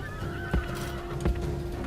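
A horse whinnies in the Rome Total War battle game, a drawn-out neigh over steady battle ambience with two dull thumps of hoofbeats or impacts.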